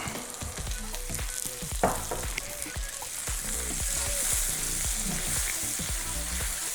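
Chicken gizzards stir-frying in a pan with sesame seed oil, a loud steady sizzle broken by repeated scraping stirs and clacks of a utensil, close up with no talk.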